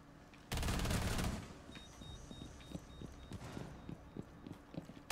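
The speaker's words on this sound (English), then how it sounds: "That gun shoots fucking straight, huh?" Gunfire in Rainbow Six Siege, a loud burst of rapid shots near the start, then quieter scattered clicks and footsteps.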